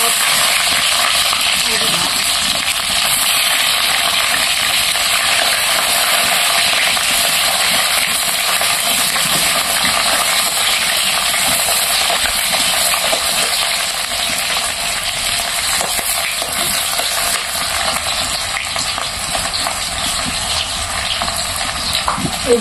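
Onion frying in hot oil with bay leaf and whole cumin, a steady loud broadband sizzle running without pause throughout, no voices over it.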